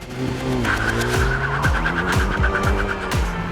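A front-drive Kia ProCeed GT hatchback with a turbocharged 1.6-litre four-cylinder engine drives hard and close, its engine droning loudly while the tyres squeal in a sustained, wavering screech with repeated swoops of engine pitch.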